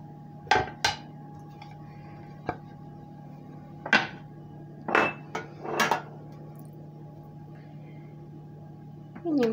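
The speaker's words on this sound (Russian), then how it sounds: "И дальше я нарезаю сыр." A knife cuts cheese on a cutting board during preparation of baked chicken fillet with pineapple, giving sharp separate knocks and clacks at irregular intervals, some in quick pairs, against a quiet kitchen background.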